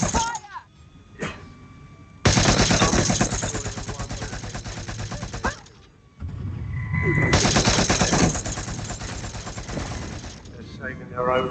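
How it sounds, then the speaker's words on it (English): Automatic gunfire in the Watch Dogs Legion video game erupts in two long sustained bursts, loud and dense, separated by brief gaps, with a voice speaking briefly between them. "Taking fire!"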